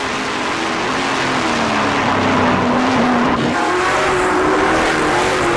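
Stock race cars of the 2009 NASCAR Canadian Tire Series road-course event at GP3R run side by side through a narrow, oil-slicked turn, engines droning loudly and continuously with shifting pitch and some tire squeal.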